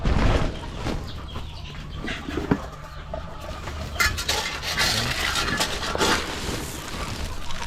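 Free-range chickens and turkeys clucking and chattering in a noisy farmyard, a steady mix of bird calls with some background commotion throughout.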